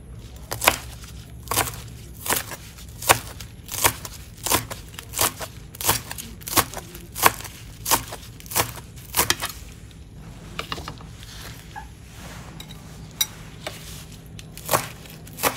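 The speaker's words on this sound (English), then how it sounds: "And finally, I will chop all leaf." Leaves for a Thai minced pork salad being chopped with a knife on a board: about two dozen sharp, evenly spaced chops, close and clear, with a brief irregular stretch midway and no talking.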